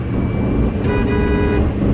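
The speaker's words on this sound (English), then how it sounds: "horn works, kind of like that." A 2000 Ford E250 4x4 van sounds its horn in one steady honk lasting under a second, rising over a constant low engine and road rumble.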